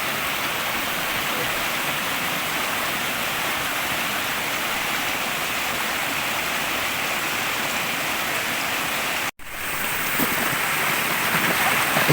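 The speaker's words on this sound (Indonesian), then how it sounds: "Ini suasana sungai, air yang mengalir di sini guys." Clear mountain river water flows in a continuous loud, hissing rush close by, broken by one abrupt split-second cutout before resuming, with no voices.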